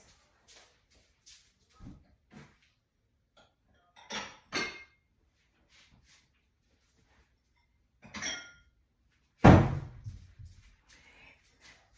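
A small salad bowl lifted out and handled in a kitchen, giving sparse, soft clinks and knocks of dishware, with a couple of louder clatters and one heavier thud near the end.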